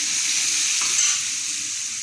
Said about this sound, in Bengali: তারপর এখন পেঁয়াজ দিয়ে দিছি।